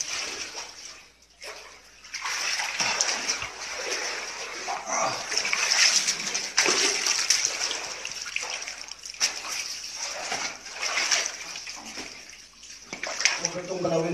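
Water splashing and trickling inside a cave during a treasure dig, an irregular wet pouring sound under frequent nearby talk, with a dog barking at times.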